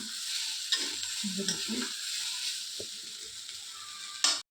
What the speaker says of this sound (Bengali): এইদিকে করছি আলু পেঁয়াজ ভাজা।